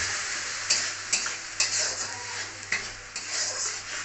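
Masala for a Bengali egg curry being stir-fried in a pan, a bright steady sizzle broken by repeated spatula scrapes and knocks at an uneven rhythm, close and fairly loud.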